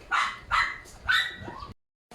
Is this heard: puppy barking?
yes